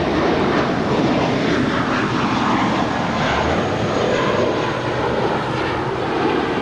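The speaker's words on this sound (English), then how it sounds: "Here we have a 15-year-old Airbus A320 departing to Cancun, JetBlue Airways flight 1570." A 15-year-old JetBlue Airbus A320 takes off from Los Angeles International Airport bound for Cancun, its jet engines making a loud, steady roar that holds throughout with no voices.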